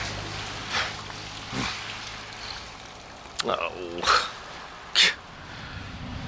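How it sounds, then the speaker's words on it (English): In a radio drama, steady rain hisses over a wet road while several cars pass one after another, each sending up a brief whooshing splash of surface water, with a gasping voice among them. "The rain leaves so much surface water that Arthur is drenched in turn by several cars."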